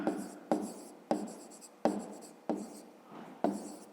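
A pen writes on paper in six quick, crisp scratchy strokes at a steady rhythm, close and distinct in an otherwise quiet room.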